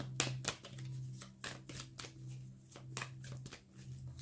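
Playing cards shuffled by hand for a tarot-style card reading, a string of crisp riffling bursts repeating every half second or so over a steady low hum, close and moderately loud.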